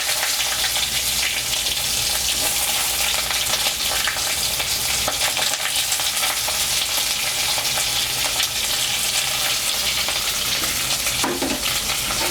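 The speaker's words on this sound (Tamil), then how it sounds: "வெங்காயம் நல்லா வதங்கணும்." Onions frying in a pan with curry leaves, a loud, dense and steady hiss of sizzling oil, close up and unbroken for the whole stretch, with faint stirring and no talk.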